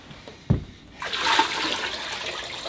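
Water from a bucket of winter rainwater with ice chunks is poured out in one sustained, splashing rush after a brief knock, fairly close and steady, with no talk.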